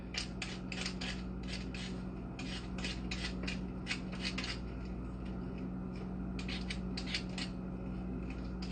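A peeler draws repeatedly across a small broken-off piece, stripping the skin in quick, soft scraping strokes that come in short rhythmic bursts, close and quiet, with a brief pause before the strokes resume.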